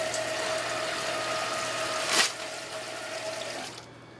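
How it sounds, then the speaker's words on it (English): Hot water runs from a sink tap for handwashing, a steady close hiss and splash lasting several seconds before the flow cuts off and quiet follows. "You want to get the water as hot as you possibly can."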